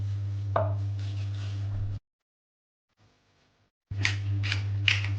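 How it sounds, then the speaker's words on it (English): A knife chops garlic on a board in a kitchen while a beef heart roast is being prepared, giving a few sharp close cuts over a low hum, cut off by a stretch of silence. "we cut some garlic"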